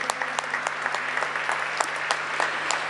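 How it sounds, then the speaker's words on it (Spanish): An audience in the Argentine Chamber of Deputies applauds a legislator receiving a distinction, a sustained, moderately distant patter of many hands with individual sharp claps standing out and a steady low hum beneath. "lo saludamos con este aplauso"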